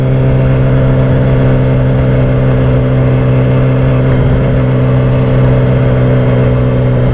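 A KTM Super Duke and a newer Honda Goldwing motorcycle pass on the road, their engines giving a loud, steady mid-pitched drone and whir that rises slightly as they go by.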